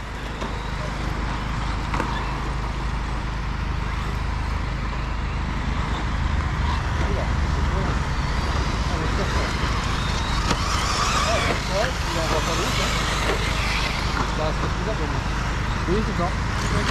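Two 1/8-scale brushless Rogue RC buggies run together on the Model Xtrem34 track, producing a continuous electric whine and tyre rumble under nearly constant talking, with bursts of higher-pitched acceleration toward the end.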